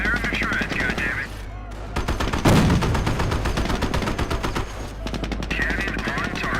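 Sherman tank main cannon firing in Company of Heroes: one heavy, loud boom lands midway through dense, continuous battle noise of rapid machine-gun fire and other gunshots.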